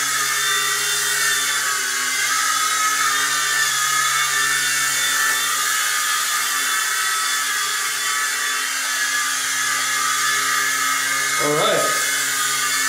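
A Black Spider-XT 2-channel toy RC helicopter flies indoors, its rotor motor giving a steady high-pitched electric whine with a constant tone throughout and a brief clicking burst near the end.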